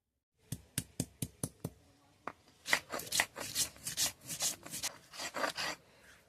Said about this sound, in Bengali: এরপর আমি সর্ষে আর আদা নিয়েছি, বেটে নেব